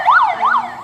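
An ambulance siren wails loud and close, two rising and falling sweeps within under a second.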